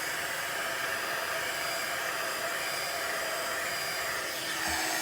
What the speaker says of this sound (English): So bringing the heat gun in, hopefully it's warmed up, and it's best to start from the underside of your card